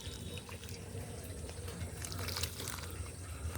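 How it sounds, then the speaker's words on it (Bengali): Water pours steadily onto garden plants such as marigolds and vegetables, a close, continuous splashing and trickling with small droplet patters running throughout. "এই যে এই দেখুন সব গাছে জল দিয়ে দিচ্ছি।"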